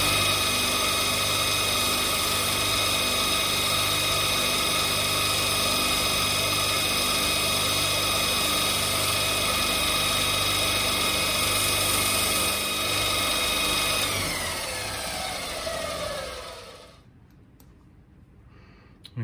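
A multi-tool cleans up the rough-cut edges of a piece for a homemade TIG welder foot pedal, buzzing steadily and loudly for most of the clip before winding down and cutting off near the end.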